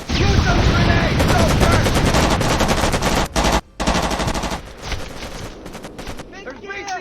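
Sustained automatic gunfire in the video game Mademan, dense rapid bursts of machine-gun fire with short gaps, loud and close, tapering toward the end under faint shouting.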